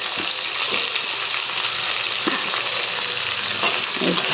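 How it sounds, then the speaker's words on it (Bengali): Potato and pumpkin pieces frying in a pan and being stirred, making a loud, continuous sizzle broken by scraping strokes close up, with no talking. "আলু আর কুমড়ো দিয়ে একটু নাড়াচাড়া করছি"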